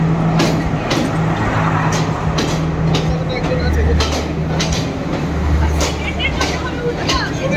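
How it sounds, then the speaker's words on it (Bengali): A train on the Nuwara Eliya to Ella line pulls into a station with steady loud rumbling and rhythmic clacking wheel beats, while voices murmur faintly on the platform. "ট্রেন আসছে।"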